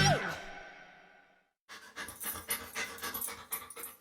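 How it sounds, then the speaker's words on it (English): A dog pants rapidly and rhythmically at close range, quick breathy huffs following a brief sigh-like exhale and a moment of quiet, as part of a dog food advert. "To some, this might sound like a typical family dog."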